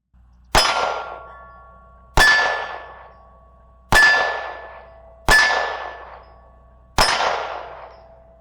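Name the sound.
pistol shots ringing on steel targets at 20 yards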